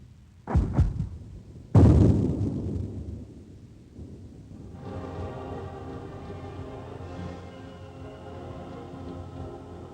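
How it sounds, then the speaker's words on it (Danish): Naval guns open fire in the Battle of Jutland between British and German warships: two heavy booming blasts in quick succession with rumbling tails, then a steady low roar of sea and engines. "åbner kanonerne ild"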